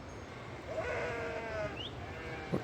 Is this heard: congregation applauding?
no